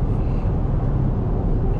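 Volvo S90 Excellence cabin while driving: a steady low rumble of road and engine noise, even and continuous, with no voices.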